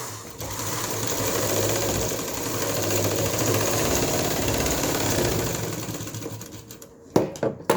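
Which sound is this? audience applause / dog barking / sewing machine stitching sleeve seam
sewing machine stitching sleeve seam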